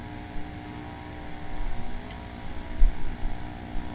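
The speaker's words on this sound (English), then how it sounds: "It's quite a funny aircraft to fly, even though it's using the Brasilia FE flight model." Steady propeller-aircraft drone from an EMB/CBA-123 turboprop in a flight simulator game, a continuous moderate hum with slight swells and no talk.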